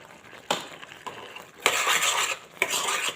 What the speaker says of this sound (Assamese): ইয়াতে মই এতিয়া চেনি এড কৰিম। চেনি দিম মই মাত্ৰ 2 চামুচ